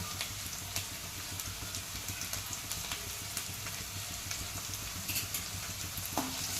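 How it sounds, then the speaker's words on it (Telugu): Carrots frying for egg rice, stirred with a spoon: a soft, steady sizzle close by, with light scraping clicks of the spoon scattered throughout and no talking. "స్పూన్ పెట్టి కలుపుకోండి ఫ్రెండ్స్"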